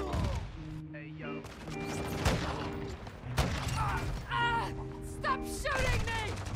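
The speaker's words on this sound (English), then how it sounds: "Stop shooting me!" Rapid gunfire and bursts of shots in a fast Call of Duty match on the small Shipment map with an SAB-50 rifle, mixed with game music, radio callouts and voices throughout, loud and dense.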